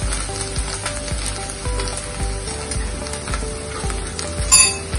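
Beef filling for lasagna sautés in a pan on the stove with a steady close sizzle. A spoon or spatula knocks and clinks against the metal at a regular rhythm, with no talking.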